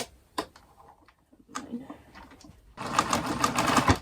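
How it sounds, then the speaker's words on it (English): A sewing machine top stitches fabric during an upcycling sewing project, running in a sustained loud burst near the end after a few brief taps and quiet handling noises, with some speech-like sounds early on. "Alright, now I can top stitch it down."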